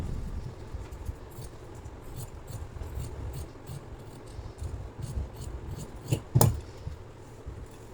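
Scissors cutting through blouse fabric on a tailoring table, soft low snipping and rubbing throughout, closing with a sharper metallic snip near the end.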